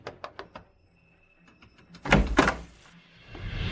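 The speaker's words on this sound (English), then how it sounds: "open the door" A door opening in a home: a few light knocks and small clicks, then a louder thudding rattle of the door being pulled open, followed by a low rushing background.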